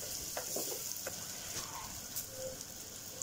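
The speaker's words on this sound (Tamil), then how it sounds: "இப்போ நம்ம வதக்கி வச்ச பாவக்காயை சேர்த்துடலாம். போட்டுட்டு நல்லா மிக்ஸ் பண்ணி விட்டுடுங்க." Sautéed bitter gourd is stirred into masala in hot oil, giving a steady close sizzle broken by a few quick scraping stirs, with no voices.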